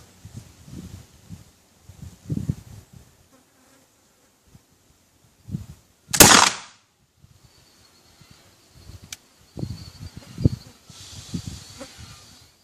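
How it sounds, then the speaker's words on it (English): A single sharp blast from a Leman trade rifle fired at a 50-yard range rings out loud and brief, amid quiet outdoor buzzing and faint rustling. "All right, here we go. 50 yards, first shot."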